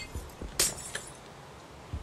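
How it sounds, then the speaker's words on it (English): Glass block breaking in the video game Minecraft: one short bright crackle of shattering glass with a few light clinks, set against quiet low background noise. "Oh, no, I broke my other glass."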